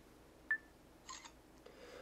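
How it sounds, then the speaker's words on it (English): A Samsung Focus Flash Windows Phone 7.5 camera autofocuses and takes a picture: a brief faint beep, then soft clicky shutter bursts in a very quiet room. "You can tap the screen, will autofocus, and then it will proceed to take the picture."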